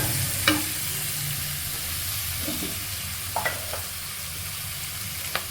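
Onions fry in oil inside a clay pot with a steady, loud sizzle, broken by a few sharp clinks and scrapes of a stirring spoon.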